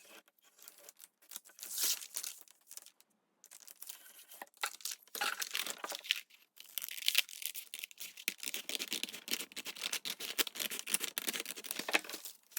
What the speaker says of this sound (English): I'm going to cut about 1 inch from the top and 1 inch from the bottom